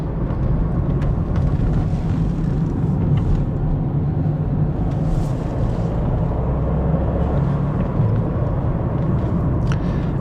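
A Dacia Sandero Stepway facelift running on LPG drives at night, its engine a steady low rumble and drone under constant road and tyre noise, heard from inside the cabin with no talk.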